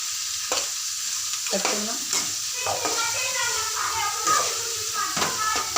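Onions sizzle in a pan with a pinch of salt while a spoon stirs them, scraping now and then, as a person talks over the steady frying.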